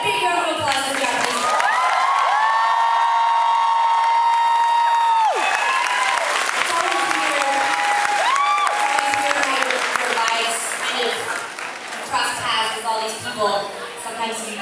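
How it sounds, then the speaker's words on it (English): Concert crowd at a show in a theater claps and cheers loudly, with whoops and shouts over sustained music tones that fade after a few seconds, the applause thinning toward the end. "So can I get a big round of applause for Japanese?"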